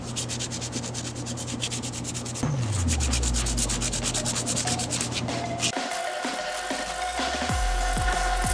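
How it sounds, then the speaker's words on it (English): Hand sanding on a part of a 100cc motorized bike build, a steady continuous rubbing scrape, loud and close, running throughout with no talk. "I'm going to have to sand this area to make it even smoother."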